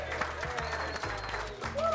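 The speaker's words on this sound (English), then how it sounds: "How about a round of applause for Francisco?" A crowd claps in a brief, dense burst of applause, steady throughout with a voice briefly audible underneath.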